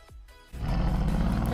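A Bugatti supercar exhaust roars loud and close, a short low blast at the start then a sustained deep growling rumble that swells and holds to the end, with no talk over it.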